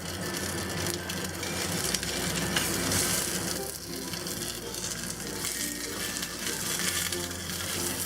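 Six eggs fry in hot oil in a pan, giving a steady, close, fairly loud sizzle and crackle that runs unbroken throughout with no talking.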